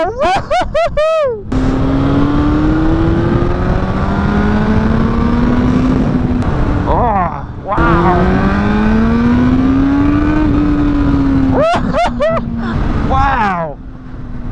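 A Suzuki DRZ single-cylinder motorcycle engine revs and accelerates up through the rev range, loud and close, with its pitch climbing and dropping between gear changes and short stretches of voices mixed in.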